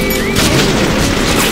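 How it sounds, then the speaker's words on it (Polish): A grenade explodes in the video game Bioshock, a loud, dense blast with a rumbling, crackling tail that fills the whole brief moment. "No dawaj, rzucaj granatę blisko."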